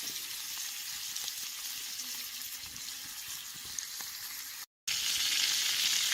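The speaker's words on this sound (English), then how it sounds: "That eel's cooking away nicely." An eel cooking over an open campfire outdoors, giving a steady, close sizzle and crackle of frying that runs on continuously, broken only by a brief dropout near the end.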